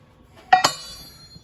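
Thin weight plates struck together, two bright ringing clinks in quick succession with a bell-like tone that fades into quiet afterward.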